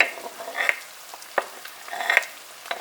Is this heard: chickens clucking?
no